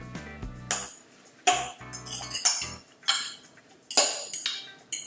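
A utensil mixes salt codfish fritter batter with salt, chili flakes and pepper in a bowl, giving a series of sharp clinks and scraping knocks in irregular bursts, close and fairly loud with no talking.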